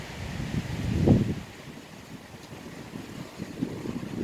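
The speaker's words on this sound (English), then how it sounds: "Very windy today." Wind buffets the microphone outdoors during a yoga session in low, rumbling gusts, strongest in a burst early on, then a steadier blustery rush with no talking.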